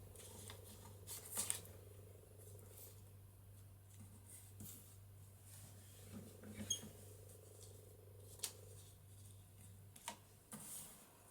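Scissors trim 12-inch paper for a junk journal with a few quiet, crisp snips spread apart. A low steady hum runs beneath them.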